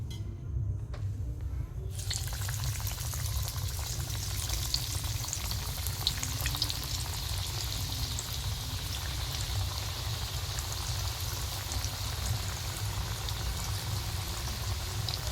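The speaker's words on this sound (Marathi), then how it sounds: "आमच्याकडे तर डीप फ्राय आवडतात म्हणून मी डीप फ्राय करते" Coriander vadya deep frying in hot oil makes a dense, steady crackling sizzle close by, continuous throughout after a brief quieter start, with no talking.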